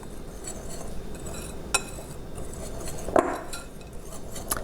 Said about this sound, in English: And I'm now going to give these a good whisk.